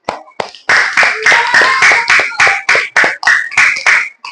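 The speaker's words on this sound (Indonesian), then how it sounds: "beri tepuk tangan untuk kalian semua" Classroom students clap together in a lively burst, sharp rhythmic hand claps close by and loud, alone without talk for a few seconds.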